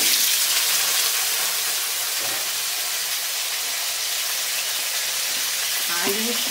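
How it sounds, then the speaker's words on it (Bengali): Potatoes fry in hot oil in a wok, a loud, dense, steady sizzle filling the whole stretch, with a brief scrape of movement near the end and no talking. "আলুগুলো ভেজে নেব আগে"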